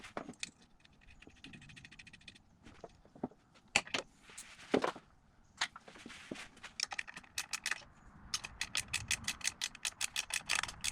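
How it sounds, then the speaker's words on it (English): Ratchet wrench tightening a nut on a VW Golf 2.0 TDI engine during timing belt and water pump work, close-up fast clicking bursts in several runs with pauses and occasional metallic knocks. "Then I'll go and put the nut on underneath."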